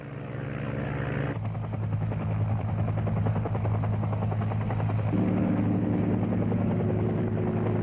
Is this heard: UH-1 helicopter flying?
yes